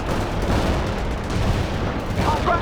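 Vehicle gunfire in the real-time strategy game World in Conflict, a dense continuous rumble of shots and explosions filling the whole stretch, loud and busy, with game voices mixed underneath.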